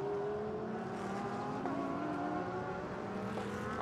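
Porsche GT race cars at the Sepang circuit during a GT Asia race produce a continuous engine drone with shifting pitch from a moderate distance, steady and without talk.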